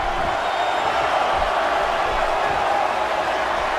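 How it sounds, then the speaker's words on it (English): A steady, dense roar of a large wrestling arena crowd cheering in the video game WWE '13, continuous and loud throughout without clear speech. "Would you listen to this crowd show their appreciation for these amazing competitors?"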